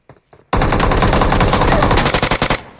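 Loud, sustained bursts of rapid automatic gunfire in PUBG Mobile, close and dense, ending in a few separate shots before fading; a couple of faint sounds come first.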